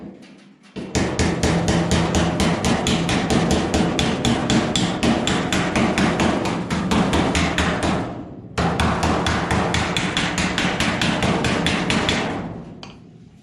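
Steady, rapid hammer taps on a Ford Falcon XB GS body panel while low spots are worked out, a close, continuous run of sharp metallic strikes that pauses briefly before resuming, then fades.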